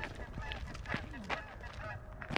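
A goose flying over a wetland honks several times at a distance, short nasal calls spaced irregularly over a faint outdoor background with some voices.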